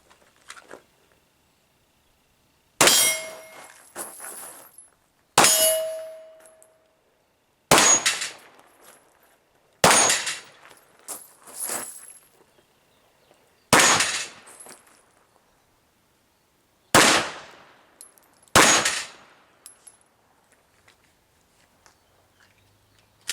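Gunshots striking steel targets during a shooting-and-moving drill, eight or so sharp loud cracks spaced a few seconds apart, some followed by a brief metallic ring, with quiet gaps between.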